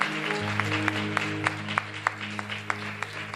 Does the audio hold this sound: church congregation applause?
yes